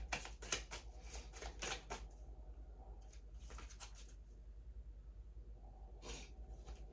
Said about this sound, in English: I'm gonna lay out the cards and then I'll go with my interpretation